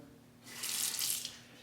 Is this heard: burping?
no